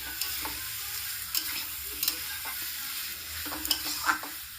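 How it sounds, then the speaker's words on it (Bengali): Bengali-style chicken tossed and stirred with spices in a hot pan: a steady sizzle with several sharp scraping strokes of the spoon at irregular moments, close up, with no talking. "চিকেনটাকে দেওয়া হয়ে গেছে, এবার ভালোভাবে মশলার সাথে এটাকে মাখিয়ে নিচ্ছি"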